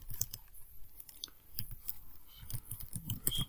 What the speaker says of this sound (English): If I could type, that would be awesome.